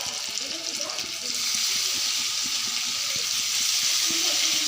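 Garlic paste tempering in hot oil for a potato and eggplant dried-fish curry gives a loud, steady sizzle that swells slightly after the first second and then holds, with faint stirring clicks underneath and no talking.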